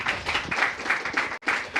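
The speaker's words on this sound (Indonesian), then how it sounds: "Kita berikan tepuk tangan buat Pak Zainul Munasihin." A crowd applauds steadily at a parliamentary commission hearing in Indonesia, many hands clapping in a dense, continuous patter with a brief gap near the end.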